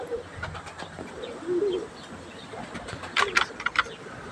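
Pigeons in a home garden coo softly and briefly, with a few brighter chirps toward the end, near and at moderate volume over faint outdoor background.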